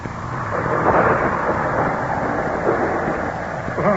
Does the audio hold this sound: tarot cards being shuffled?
no